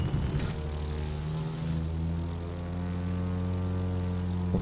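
A commercial airliner in The Crew 2 drones steadily overhead with a deep, even propeller-like engine hum and layered harmonic tones, fairly loud and close, with no talk.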